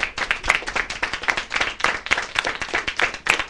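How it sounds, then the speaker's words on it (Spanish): Loud, close clapping from a school audience, with individual hand claps distinct in an uneven, lively rhythm that runs throughout without pause. "un aplauso muy fuerte."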